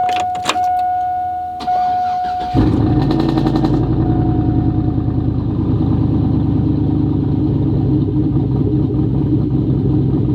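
A lifted Chevrolet Tahoe with a cam and 450 horsepower starts up cold after a few clicks and chimes, then settles into a loud, choppy, lumpy idle that rumbles on alone.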